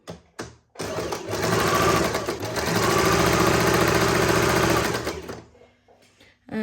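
A sewing machine stitches a churidar hem in one continuous run of about four seconds, a fast, even mechanical whirr with a steady rhythmic knock. Short handling noises come before the run, and it stops abruptly.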